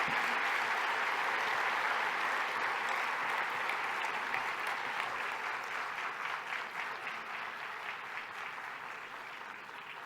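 An audience at the Premio Aragón Empresa 2017 awards ceremony applauds award recipients, a dense, steady roll of clapping that fills the room and slowly fades over about ten seconds.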